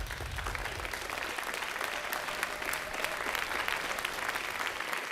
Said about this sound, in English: Nice to see a nice round of applause from the crowd